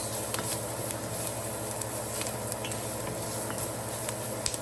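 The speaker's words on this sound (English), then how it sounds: "Stir this around for a couple minutes." Onions stirred around a soup pot as they soften, a steady soft scraping and low sizzle with faint clicks of the utensil, close and continuous without talk.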